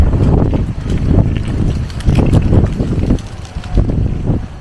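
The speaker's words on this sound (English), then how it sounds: "So the wind is picking up." Strong outdoor wind gusts buffet the microphone in repeated rumbling bursts at a Disney resort area, loud and close, with no speech.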